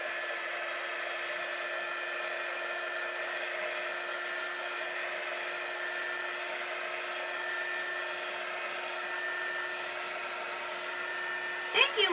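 A hair dryer runs in a steady, continuous drone, drying paint on a handmade Old Rugged Cross sheet-music craft sign, with a brief clatter right at the end.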